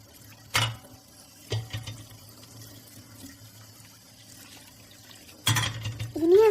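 Water runs briefly from a tap in three short bursts near 0.5, 1.5 and 5.5 seconds, fairly close and moderate in level, against a quiet domestic background with no speech.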